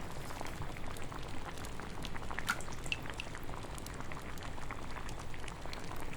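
Water simmers in a pot during a potion-brewing ASMR scene, a soft, continuous bubbling with scattered tiny pops, close but quiet and unaccompanied by speech.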